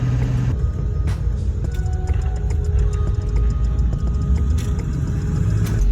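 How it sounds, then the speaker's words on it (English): A truck pulling a trailer loaded with scrap metal drives over a weighing scale, making a loud, steady, close low rumble of engine and rolling wheels with faint rattles on top. "So after driving over the scale to weigh the truck and the trailer"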